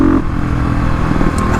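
A Stage 3 Kawasaki KLX351 dirt bike engine runs close by at a steady, rough idle-to-low rev with a brief throttle blip near the start, heard alone on an off-road trail.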